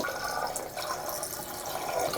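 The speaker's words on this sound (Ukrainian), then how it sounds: "Демонструємо, що вода система працює, вода є у нас." Tap water runs steadily from a faucet fed by a home water hookup the residents installed themselves in Tomakivka, a continuous close splashing stream with no talk.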